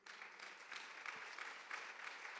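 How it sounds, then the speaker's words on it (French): An audience at a French regional conference claps for a named participant, a faint, distant wash of steady applause with no speech over it. "Ludivine Lasserre, on l'applaudit."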